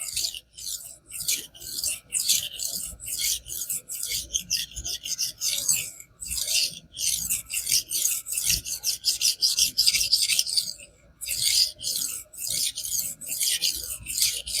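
A carbon steel knife is sharpened on a King 300 whetstone, producing close, rhythmic rasping strokes in a rapid back-and-forth pattern, with only a brief pause before the scraping resumes.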